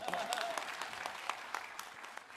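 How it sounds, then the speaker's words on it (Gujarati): Audience applause at a talk event with a comedian turned social worker, dense steady clapping throughout, fairly loud and close, with a voice over it. "જોરદાર તાળી થઈ જાય."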